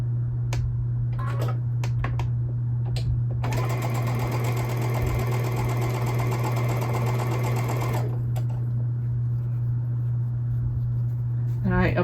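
A sewing machine whirs in one continuous run of about four seconds while stitching quilt pinwheel pieces, framed by soft handling clicks and a steady low background hum.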